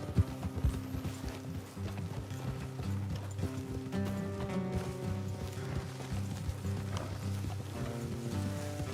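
Horses galloping at speed in Red Dead Redemption 2, with rapid, steady clip-clop hoofbeats and an occasional whinny running under a continuous musical score for about nine seconds.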